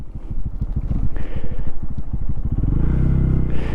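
Lifan KPX 250 dual-sport motorcycle engine heard while riding, a steady throbbing thrum that swells as the throttle opens near the end, with wind buffeting the microphone throughout.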